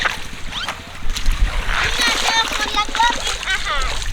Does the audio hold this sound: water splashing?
yes